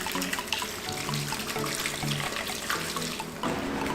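Water pours steadily into a container to dilute a cleaning solution soaking engine rods and parts for a budget turbo 5.3 LS build, a continuous close splashing rush with no pauses.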